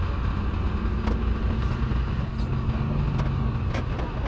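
A hotshot pickup truck towing a trailer drives down the road, with a steady loud engine and road drone and occasional faint clunks, alone throughout.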